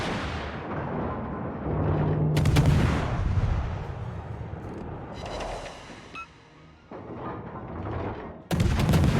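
Warship artillery fire in a naval video game, several heavy booming salvos with sharp reports and rumbling tails, spaced irregularly over a low background drone.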